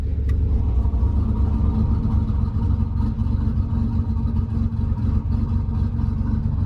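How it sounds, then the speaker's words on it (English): A 1988 Nissan 300ZX Z31 sports car engine idles loud and throaty with the exhaust open, a deep continuous rumble that holds steady and close. "if I hold this open, it actually opens the exhaust underneath the car"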